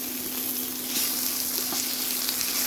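Ingredients fry in a pan for penne pasta, a continuous bright sizzle with a faint steady hum underneath and an occasional soft stir.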